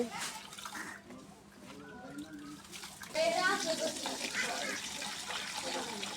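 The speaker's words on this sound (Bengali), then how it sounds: "দুই ধোয়া হয়ে গেছে, এখন আর একটা ধোয়া দিয়ে দেব" Broken rice being washed by hand in a basin of water, with steady sloshing and splashing that grows louder partway through; voices talk over it.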